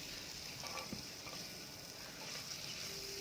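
Onions sautéing in oil in a pan for a goat leg paya curry, giving a soft, steady sizzle with faint stirring scrapes, fairly quiet and continuous throughout.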